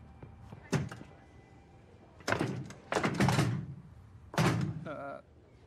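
Someone tries a locked hospital door, rattling and thumping it in several heavy bursts spread over a few seconds, close and fairly loud against a quiet room.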